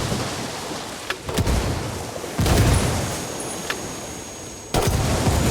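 Grenade blasts and gunfire in Ghost Recon Wildlands: two loud broadband bursts land a couple of seconds apart, each followed by sharp cracks over a steady rumbling background, with no voices.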